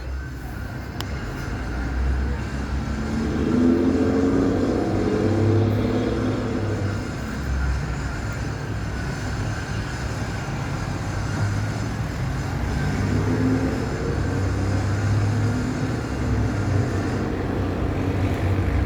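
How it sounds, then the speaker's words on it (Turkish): Morning road traffic rumbles steadily with low engine drone and passing vehicles swelling and fading, moderately distant and continuous without talk. "Sabah sabah bu ne trafik ya. Vallahi şaşırıyorum sabah sabah bu trafiğe."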